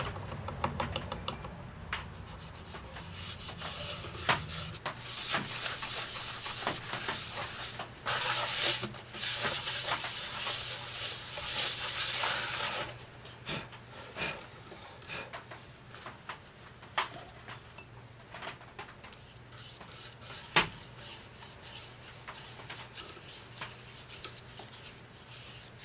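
Continuous abrasive rubbing and hissing as a burl wood ring is sanded, loud for several seconds then softer, broken by small taps and scrapes from close by.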